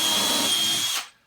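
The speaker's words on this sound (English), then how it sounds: "but I'm going to go ahead and drill" A power drill whirs steadily at high speed into the supports of a prop tree stump, loud and close, then spins down and stops after about a second.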